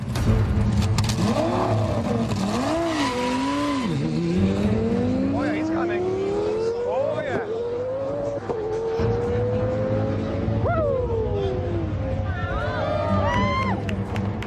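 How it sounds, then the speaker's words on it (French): A Lamborghini race car accelerates on a track through rising, swooping engine revs and gear changes, loud and sustained with crowd noise in the background and a commentator talking over it. "la Lamborghini peut encore aller plus vite"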